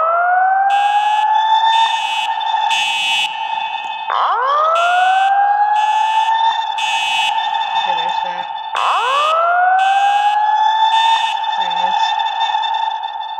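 Fire alarm in a Roblox mansion game, a loud simulated siren with rising whoops repeating about every four seconds, layered with rapid pulsing electronic horn beeps, continuous and close throughout.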